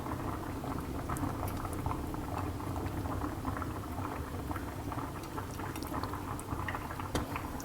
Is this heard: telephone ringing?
no